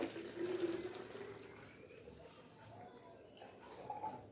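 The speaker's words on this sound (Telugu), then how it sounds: "ఇలాంటి బాటిల్ ఒకటి తీసుకున్నాను దీంట్లో వాటర్ పోసుకుంటున్నాను ఫుల్గా" Water is poured into a plastic bottle to fill it, a soft gurgling trickle that is strongest at the start and then thins to a quieter flow.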